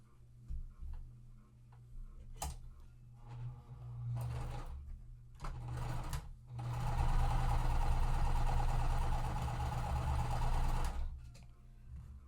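A sewing machine stitches quilt fabric pieces in a few short, quiet bursts, then runs in one steady, rapid stretch of several seconds before stopping.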